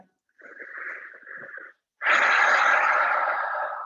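Deep breathing in a gentle yoga flow, a soft raspy inhale followed after a pause by a louder, long breathy exhale, close to the mic.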